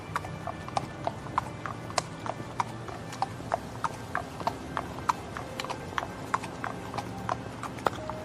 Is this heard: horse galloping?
yes